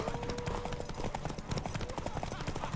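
Rapid, rhythmic hoof clip-clops of a horse running in The Witcher 3: Wild Hunt, busy and continuous over a noisy background with faint voices.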